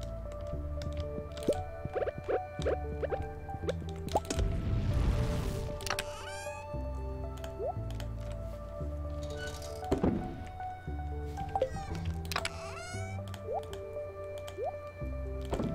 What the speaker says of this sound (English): I need to remember to water our crops.